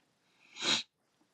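A single breathy burst builds over about half a second and cuts off sharply, like a close sneeze, with quiet before and after.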